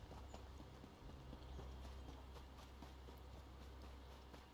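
Horse hooves walk in a steady clip-clop rhythm in a video game, very quiet beneath a low constant rumble.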